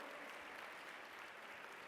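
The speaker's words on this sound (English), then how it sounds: "Let's give them a huge Minneapolis Foundation round of applause." A Minneapolis Foundation event audience gives a round of applause, a faint, dense wash of clapping from a crowd heard at a distance, continuous for the whole moment.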